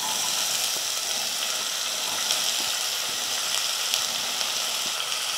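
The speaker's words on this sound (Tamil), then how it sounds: "பெரிய வெங்காயம் 1 எடுத்து பொடியாக நறுக்கிக்கிட்டு அதையும் சேர்த்துக்கிறேன்" Finely chopped large onion sizzles in hot oil with cinnamon and cloves, a steady close crackle with occasional stirring clicks and no talk.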